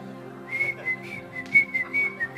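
Someone whistles a melodic tune of short, wavering notes while brushing false teeth, the whistling close and fairly loud with soft scraping underneath.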